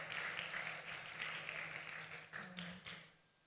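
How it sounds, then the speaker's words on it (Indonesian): Faint applause from a church conference audience for a young participant, a soft diffuse wash of clapping with a few sharper claps near the end before it falls away into quiet. "beri tepuk tangan buat Gerard"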